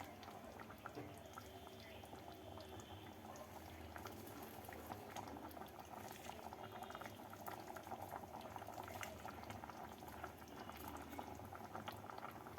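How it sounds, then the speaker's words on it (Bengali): A vegetarian bottle gourd curry with chopped coriander leaves simmers under a lid, producing a soft, continuous bubbling that stays quiet and even throughout. "ঢাকা দিয়ে দু মিনিট ফুটিয়ে নেব"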